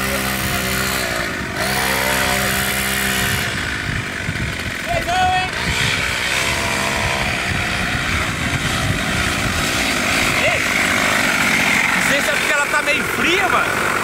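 Mini motorcycle engines revving in a loud, buzzing, continuous drone with rising and falling pitch. Excited voices talk over the noise throughout.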